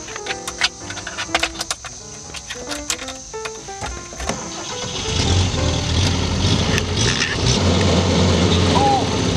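A truck engine turns over and catches about halfway through, then settles into a loud, steady rumbling run; voices and tonal sounds fill the first half before it starts.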